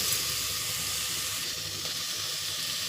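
Washed mutton with a little salt frying in a hot pan sends up a steady, close hiss and sizzle, constant and even in loudness with no talk over it.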